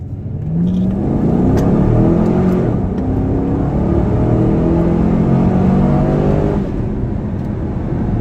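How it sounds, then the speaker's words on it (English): A 2015 Chevrolet Camaro convertible revs and accelerates hard, a loud continuous roar with rising pitch sweeps, building over several seconds before easing off. "we're gonna go ahead and give it another run here"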